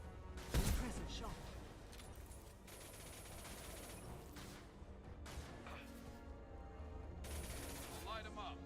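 Gunfire in the video game Mass Effect 2, a loud sharp shot near the start followed by scattered firing and combat effects, with someone talking over it.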